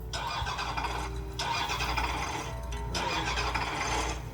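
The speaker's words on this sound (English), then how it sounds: "Gail's car sputtered in the Texan heat." A car engine sputtering effect played inside a spoken ghost story set in Texas heat: repeated cranking, grinding bursts with short gaps between them, fairly faint and heard alone.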